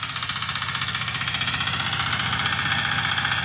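A small mini power tiller engine runs steadily close by, a loud, even, rapidly pulsing mechanical chug with broad rattling vibration and no voices.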